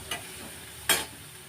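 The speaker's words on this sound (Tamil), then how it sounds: "இது வதக்கிட்டே இருக்கேன்" Ingredients sautéing in a pan while making rava pulav: two short, close scraping stirs rise above a faint, steady background hiss.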